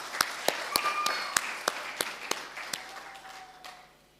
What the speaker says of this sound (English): deserve yet another round of applause